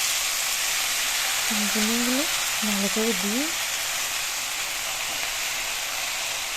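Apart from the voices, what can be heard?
cabbage frying in a pan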